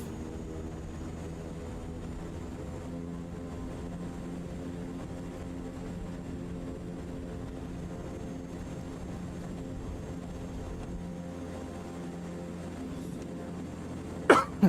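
A propeller aircraft in Microsoft Flight Simulator 2024 drones with a steady tonal engine hum that stays even for many seconds as it takes off, and a short, sharp knock breaks in near the end.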